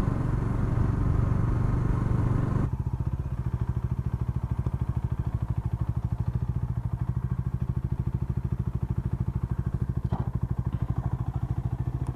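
A Bajaj Dominar 400 BS6 motorcycle engine runs steadily during a ride, its rapid pulsing exhaust close and continuous, louder at first then settling into an even cruise with a brief clatter near the end.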